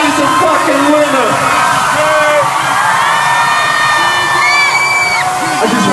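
Concert crowd at an arena show in Phoenix roaring and cheering, with whoops and shouts rising over a steady wall of sustained noise.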